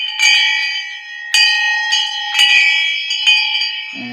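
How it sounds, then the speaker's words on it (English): A shang bell, a traditional Tibetan ritual bell used in Chod meditation, rings out in repeated bright metallic strikes with a sustained shimmering tone and long ringing decay, loud and close with no voices. "and you can see what the shang bell looks like,"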